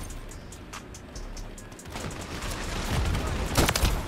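Rapid gunfire in a shooting video game, with bursts and shots of rising intensity building toward a louder cluster near the end, no voices.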